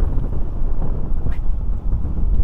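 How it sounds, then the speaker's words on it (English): Strong wind blasts a microphone at an outdoor picnic table on a coastal road trip, making a loud, continuous low rumble and buffeting with no voices. "Really strong wind"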